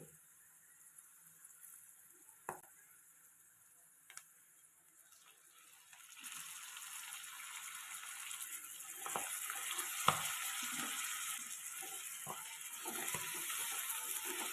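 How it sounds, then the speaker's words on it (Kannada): Brinjal and potato fry in a pan as fenugreek leaves are added. After a few faint clicks and knocks, a soft sizzle swells and continues quietly, with occasional utensil taps. "ಓಕೆ ಇಷ್ಟು ಫ್ರೈ ಆದರೆ ಸಾಕು ಇವಾಗ ನಾನು ಮೆಂತ್ಯ ಸೊಪ್ಪು ಹಾಕೋತೀನಿ"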